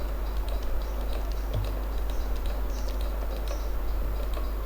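Fingers type rapid, uneven keystrokes on a computer keyboard while entering data into Microsoft Excel, close and clear over a steady low electrical hum.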